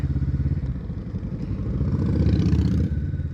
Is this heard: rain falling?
no